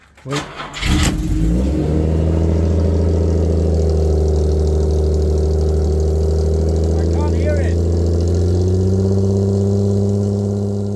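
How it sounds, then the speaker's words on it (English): A Jaguar E-Type's engine cranks briefly, then catches and settles into a steady, loud idle that runs on evenly, close by. "Okay, car's just warming up."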